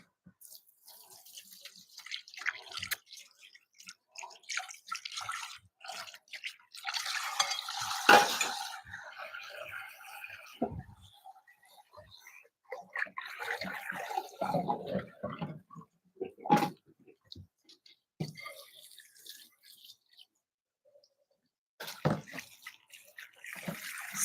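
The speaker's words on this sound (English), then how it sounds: "I'm gonna clean out this bowl real quick" Mixing bowl rinsed out under running water in a home kitchen while baking, with intermittent splashing, trickling and clinks of the bowl at close range, pausing briefly near the end.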